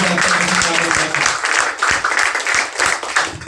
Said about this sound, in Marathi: हे बोलत असताना जितक्या टाळ्या वाजल्या